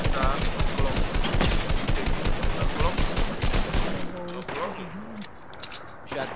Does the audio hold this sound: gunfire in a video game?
yes